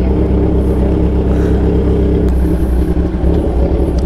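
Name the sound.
loud vehicle exhaust revving on road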